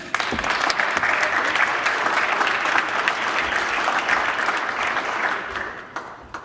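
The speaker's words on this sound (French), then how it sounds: "On l'applaudit!" An audience applauds steadily at an awards ceremony honouring a distinguished professional accountant, the dense clapping sustained throughout before tapering off at the end.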